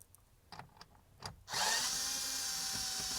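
Power drill removing 7mm screws from the glove box of a 2014 Ford F150, a few quiet clicks and taps followed by a loud, steady whine that starts abruptly and runs on, close up.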